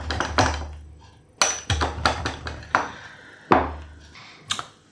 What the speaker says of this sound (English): Now I'll grate a bit of the hard Italian cheese